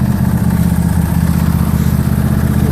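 A John Deere LA150 lawn tractor engine runs in cold weather. The mower engine chugs steadily and loudly up close, with an even rhythmic pulse throughout.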